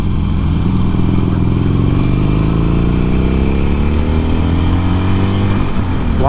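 A Harley-Davidson motorcycle pulls hard in second gear with a loud, continuous engine roar that climbs in pitch as it accelerates, close and alone with no talking.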